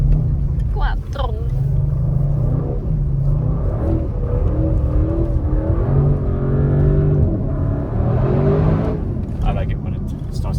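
An Audi RS6 C8 drifts through snow, its engine droning loud and steady throughout with rising and falling revs, while people talk over it.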